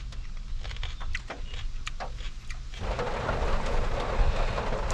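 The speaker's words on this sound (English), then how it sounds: "still raining here in South Dakota." Rain falls steadily at a campground near Thompson, South Dakota, with a low thunder-like rumble underneath and scattered drips early on, the downpour swelling louder partway through.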